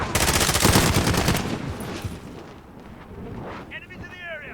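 A cruise missile strike explodes in a military shooter video game with a loud booming blast and rapid crackling gunfire that fade into a lingering rumble, with voices speaking over it.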